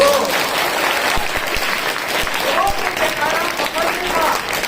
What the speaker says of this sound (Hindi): एक बार ताली तो बजा दो।